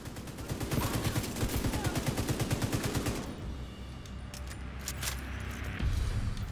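Rapid automatic gunfire in the video game The Division 2 rattles in a steady, fast rhythm for about three seconds, then gives way to scattered single shots and clinks, moderately distant.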